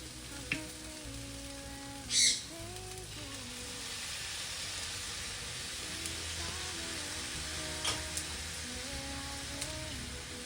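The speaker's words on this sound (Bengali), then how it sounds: "এবারে গ্যাসের ফ্লেমটাকে হাইতে দিয়ে ভালো করে আবার একটু নেড়ে চেড়ে দিলাম" Onions and rice frying in a pan over a high gas flame, a soft steady sizzle with occasional scrapes and knocks from stirring, close and fairly quiet.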